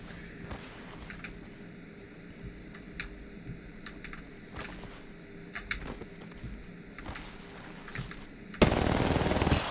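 Rapid automatic gunfire bursts from the Apex Legends battle royale game, sharp repeated cracks over a low ambient bed, ending in a louder sustained burst of noise at the close.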